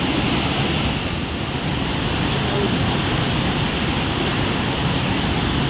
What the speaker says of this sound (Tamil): குற்றாலம் மெயின் அருவியில் வெள்ளப்பெருக்கு ஏற்பட்டுள்ளதால்